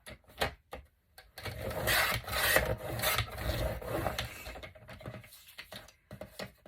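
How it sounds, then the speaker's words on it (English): A paper file folder insert is cut down for a journal, making rough, scratchy rasping strokes that come in uneven bursts, close and moderately loud. "I'm just going to cut this down some because we don't need the whole thing"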